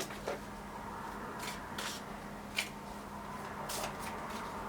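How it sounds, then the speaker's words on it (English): Soft, papery shuffling of tarot cards in quiet bursts, with a few sharper flicks and riffles scattered across several seconds. "Just the shuffling and a shuffle."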